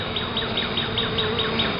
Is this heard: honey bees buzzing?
yes